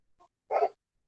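A dog barks once indoors, a short sharp bark preceded by a faint small yelp, close by against otherwise silent surroundings.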